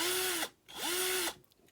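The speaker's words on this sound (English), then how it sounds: "so I don't want to drill too far" A small power drill whines into a Corgi Ford Capri 3.0S diecast model in two short bursts, its pitch dipping at each start and stop with a brief pause between them.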